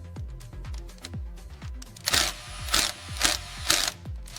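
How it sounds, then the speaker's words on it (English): A torque wrench or driver gives a steady series of mechanical clicks at an even pace, with a few brighter, louder ratcheting bursts toward the end. "Listen to that torque driver click."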